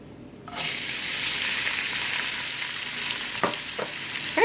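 Cumin (jeera) seeds fry in hot oil for a black-eyed bean curry, a steady close sizzle bursting in after a short quiet start and holding throughout, with a couple of brief clinks near the end.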